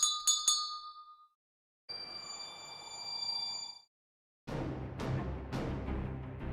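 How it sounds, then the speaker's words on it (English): A bell rings in the Fate/Grand Order Christmas event: a few quick bright chimes, then a sustained ringing tone, then repeated clanging strikes over a dense layer of game sound, loud and with no talking. "I gotta ring this bell and I get both stronger and more Santa"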